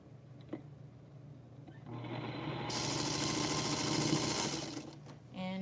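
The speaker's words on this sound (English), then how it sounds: "I'm going to start sewing my rows." A sewing machine stitches quilt rows: after a quiet start with a few small clicks, the motor whirs up to full speed with the pedal pressed hard, holding a loud rapid hum before stopping briefly and starting again.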